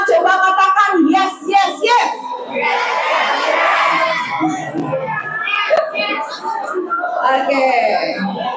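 A group of middle school students at a Ramadan school program in Jakarta shout together loudly and close by, with overlapping young voices forming a burst of crowd noise, interspersed with talking.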